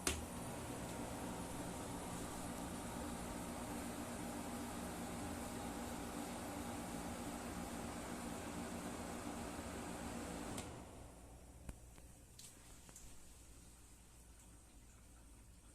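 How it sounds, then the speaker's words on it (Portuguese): A window air conditioner runs at maximum setting with its compressor housed outside the window, giving a steady broadband hum and whir for about ten seconds before the noise drops sharply to a much quieter background with a few faint clicks. "Essa parte aí do ar-condicionado de janela que faz o barulho, que é o compressor, fica para fora da janela."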